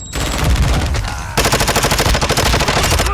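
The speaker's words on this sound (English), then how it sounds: "I'm taking fire." Loud automatic gunfire in a Call of Duty team deathmatch, dense rapid bursts that hammer on steadily, then break into a sharper, more clearly separated rhythm partway through.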